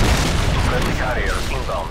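Predator missile strike in Call of Duty Modern Warfare 2: a loud, dense blast and rumbling explosion that fills the whole moment, with a radio voice speaking over it.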